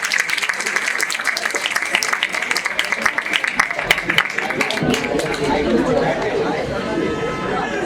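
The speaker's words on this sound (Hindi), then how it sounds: "जोरदार तालियों के साथ करते रहिए।" Applause mixed with crowd chatter at an academy function, steady and fairly loud throughout, with a denser wash of clapping in the second half.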